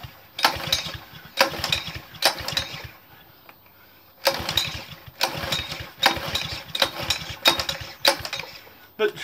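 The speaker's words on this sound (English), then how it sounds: "Let's come start with the engine" A small engine cold-starts, sputtering and catching in repeated rough bursts, pausing once before running again with a choppy, uneven idle nearby.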